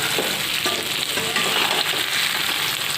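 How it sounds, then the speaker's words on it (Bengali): Dried mango pieces, soaked in milk, frying in a pan while a mango pickle is prepared; a steady, loud crackling sizzle runs throughout with occasional stirring scrapes. "আগে আমি একটু ভাজা ভাজা করে নিলাম"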